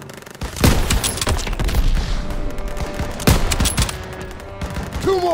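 Loud, close gunfire in the Call of Duty WWII video game, with dense overlapping rifle and machine-gun bursts and heavy sharp reports in a continuous battle din.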